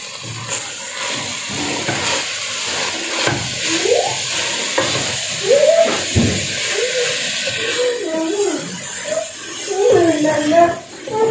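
Fenugreek leaves fry in hot oil for a mixed vegetable dish, a loud steady sizzle and hiss with stirring scrapes, while a voice talks over it throughout.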